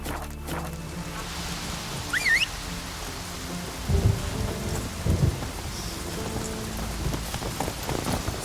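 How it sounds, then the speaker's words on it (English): Heavy rain pours steadily in The Witcher 3, with low thunder rumbles rolling in several times, a constant hiss of downpour beneath and no voices. "Rain in fucking buckets."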